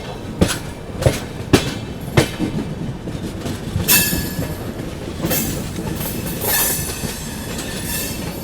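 The 12141 Patliputra SF Express runs along, heard from inside a 2AC coach: steady rolling rumble with a series of sharp rhythmic rail-joint clacks at first, then a continuous rattling ride.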